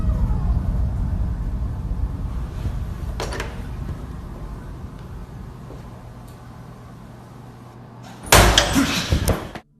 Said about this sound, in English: the stall door slams shut on its own